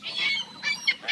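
Seagulls and ducks being fed at Port Dalhousie give a few loud, close honking squawks in quick succession, with no voices.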